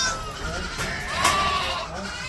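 Goats and sheep bleat in a farm alleyway as they are moved through for worming and vaccinations, a couple of nearby calls rising over background farm noise and a person talking.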